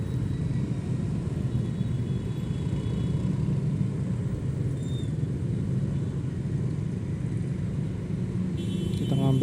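Busy, congested road traffic beside Tambun market, with a steady low rumble of engines continuing throughout, a brief high whine midway and a louder swell near the end, heard from a motorbike rider's position.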